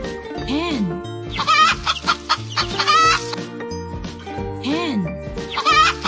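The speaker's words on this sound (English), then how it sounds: "Hen." A farm hen clucks in several short, choppy bursts, close and clear, set against a bouncy children's music track.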